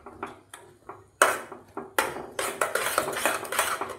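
Metal pot clanks and scrapes sharply as grated jaggery goes into simmering wheat kheer, with repeated knocks of a spoon against the rim, loud and close, in several bursts without speech.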